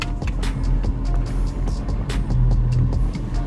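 A BMW E46 M3 converted from SMG to a manual Getrag 420G transmission rolls off in first gear, its engine a low, steady rumble up close with light rattles and clicks from the cabin over it.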